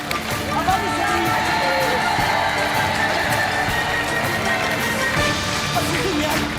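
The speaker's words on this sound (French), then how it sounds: "On va vous laisser repartir par là sous les applaudissements" A TV game show studio audience applauds and cheers, a dense continuous wash of clapping and crowd noise, with a host talking over it.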